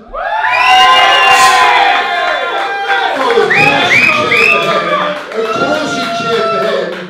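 A wrestling crowd at a heavyweight qualifier show roars for Simon Miller. Loud, sustained cheering mixes with high shouts, whoops and children's yells, and the noise swells and dips without a break.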